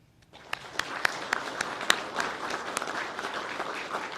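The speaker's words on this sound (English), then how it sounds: "Please give them a round of applause" An audience at a law enforcement academy graduation applauds for senators and a congressman: a few sharp early claps quickly build into steady, moderate applause from a crowd.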